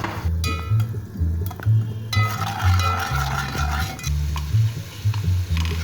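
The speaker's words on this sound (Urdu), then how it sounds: "تھوڑا سا پانی ڈال دوں گی کہیں مسالہ جل نہیں جائے۔" Masala frying in ghee for aloo tarkari, cooked as a halwa puri side, gives a steady loud sizzle with stirring and light clinks throughout. No one speaks.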